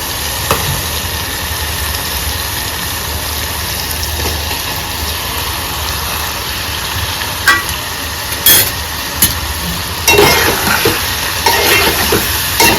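Prawns dropping into hot oil in a spiced curry base, giving a steady loud sizzle of frying with bursts of sharper crackle near the end as they hit the pan.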